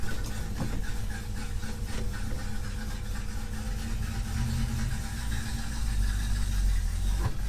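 A 1957 Chevy 3100 pickup truck engine runs with a steady, loud, low rumble that holds evenly throughout, close by and without talk.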